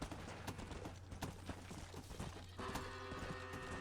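Hooves of a zombie horse galloping in a video game, a steady clip-clop rhythm over a constant low hum and dense game noise, with a tonal layer joining near the end.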